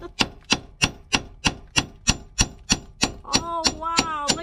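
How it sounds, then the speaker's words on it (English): A hammer bangs a car's control arm into place, with about a dozen sharp, evenly spaced metallic strikes at a steady rhythm, close and loud, and a voice breaking in near the end. "You just bang it in."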